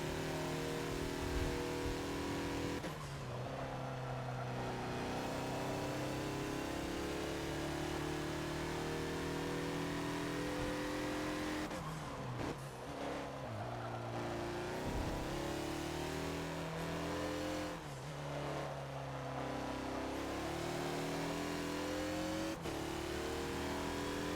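A 2014 Mazda Lola B12/80 prototype racer in Forza at Sebring revs loud and close throughout, its engine note climbing and dropping through gear changes in a continuous, aggressive stream.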